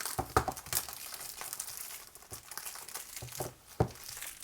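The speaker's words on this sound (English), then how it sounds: "That plastic wrap took a while to get off" Plastic wrap crinkles and tears as it is peeled off a Rubik's cube during a speedcube unboxing, with scattered close crackles and brief louder rips over a quiet room, no voices.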